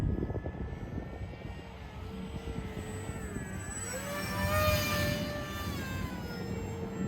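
An RC model aircraft flies overhead under low rates, its small engine giving a steady high-pitched whine that shifts in pitch as it passes and swells briefly louder, heard alone in open air.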